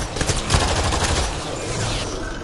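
Video game gunfire in a dense, rapid fusillade of shots rattles continuously and loudly for a couple of seconds, close up with no voices over it.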